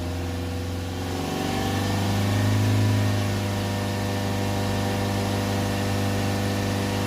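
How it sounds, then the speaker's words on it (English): A Ford Transit Custom 2.2 diesel van engine with a DPF and MAF fault runs steadily, its revs rising and holding at a high, constant pitch around 3000 rpm with a continuous droning hum throughout. "So we'll hold the revs up to 3000 RPM again."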